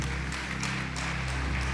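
Church congregation applauding together during a sermon, a dense continuous wash of clapping heard up close for a couple of seconds.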